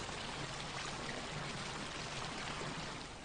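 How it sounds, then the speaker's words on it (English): Spring water bubbling up through limestone at the source of the River Chew in Chewton Mendip, Mendip Hills, heard as a steady, close, broadband trickling and gurgling wash with no voices, constant throughout. "It's the source of the River Chew at Chewton Mendip, which bubbles up through the limestone of the Mendip Hills"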